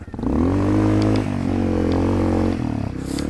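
A stock Honda CRF250L dirt bike engine runs loud and close, with revving pulses that rise and fall over a few seconds.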